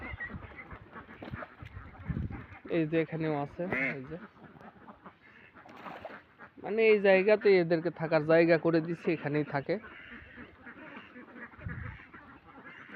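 On a duck farm, ducks quack in two loud clustered bursts of rapid, raspy calls close by, while someone talks between and over them.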